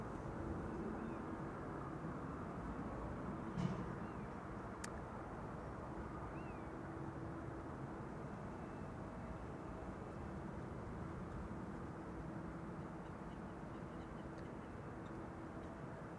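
Emirates SkyCargo Boeing 777 freighter arriving at Amsterdam Schiphol, a faint, distant broadband jet rumble spreading steadily across the airport with no clear rise or fall.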